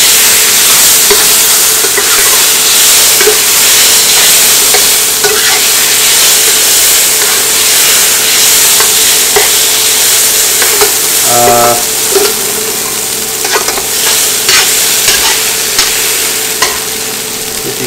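Pasta being stirred in a pot for a bachelor baked cheese spaghetti, a steady soft sizzle with faint scraping and clinks throughout, one brief sharper clatter partway through, no talk.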